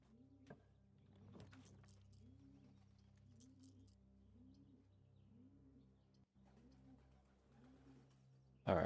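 Pigeons coo softly in the Dovecote room of the Blue Prince video game, a regular series of low rolling coos repeating steadily and faintly, with a few light chirps and a sharp sound at the very end.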